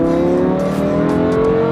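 A Lamborghini Huracan's engine roars loud and close as the car pulls away, a sustained high-revving note with no speech over it.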